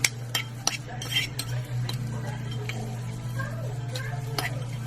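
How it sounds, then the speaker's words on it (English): A spoon stirs unsweetened coconut flakes into a drink in a mug, with light clinks and ticks against the ceramic over a low steady hum, close and fairly quiet. "You give it a stir."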